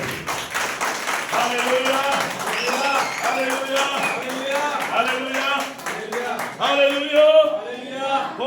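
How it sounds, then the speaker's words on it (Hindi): A church congregation claps in steady rhythm while voices sing or chant over it, the hand claps crisp and continuous throughout. "ओ जोरदार प्रभु के लिए ताली बजाइए"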